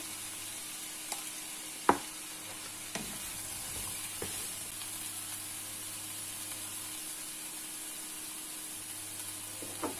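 Courgettes and garlic sizzle steadily in a frying pan, a continuous close hiss broken by a few sharp clacks of stirring, no voices.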